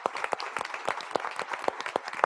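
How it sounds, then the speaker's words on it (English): An audience at a school board meeting applauds, steady scattered clapping from a modest crowd, close and even throughout. "So let's give them first a big round of applause."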